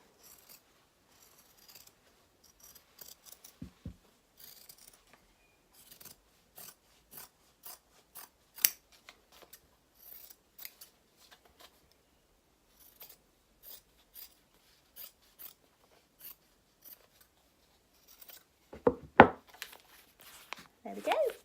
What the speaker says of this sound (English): So again, popping a pin on there and cutting that out